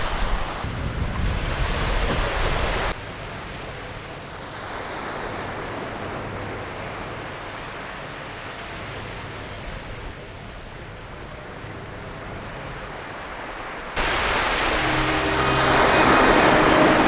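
Surf washing onto Rambergstranda beach in Lofoten, Norway, a steady broadband roar of waves with wind buffeting the microphone, louder at the start and again near the end.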